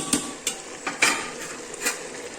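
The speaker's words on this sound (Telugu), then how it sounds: "ఈ పప్పు గుత్తితోటి బాగా మెత్తగా నలుపుకొని పోపు పెట్టేసుకుందాం" A wooden dal masher pressing and mashing cooked amaranth leaves in a pot, giving about five soft, separate knocks and squelches spaced irregularly, close and fairly quiet.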